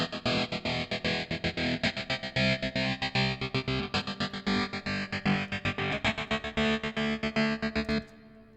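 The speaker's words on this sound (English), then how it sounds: "So what we're going to focus on is this really rhythmic guitar part." Soloed rhythmic guitar part from a song, run through multi effects: fast chopped, gated chords in a tight pulsing pattern with a slowly sweeping filtered tone, loud and steady, ending abruptly, with no voices.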